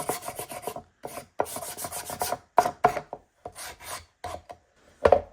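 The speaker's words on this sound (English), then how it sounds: "now I'm gonna take a little sandpaper and just distress the edges a little bit" Bursts of rough, raspy rubbing as sandpaper scrapes along wood edges to distress them, in short strokes separated by brief pauses, close and fairly quiet.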